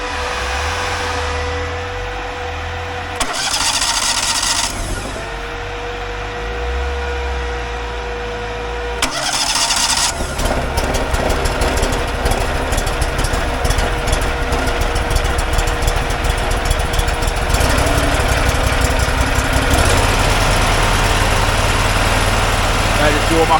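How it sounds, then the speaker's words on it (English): A Fuelwood Splitta 400 log splitter's small engine is started on choke and left to warm up: brief cranking attempts, then it catches and runs at a steady, close, rattling idle while someone talks. "Might get that engine warmed up"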